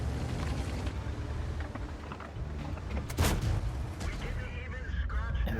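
Tank cannon fire in World of Tanks, including an incoming shot from a T-30 bouncing off the turret of an LT-432, with one loud blast midway over a constant rumbling battle bed and commentary talk.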